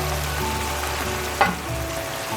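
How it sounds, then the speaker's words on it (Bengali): Salmon fish heads sizzle in a spiced masala, a steady close hiss of frying with one sharp clatter of stirring partway through. "তো মাথাটাকে খুব ভালো মতো কষিয়ে নিতে হবে"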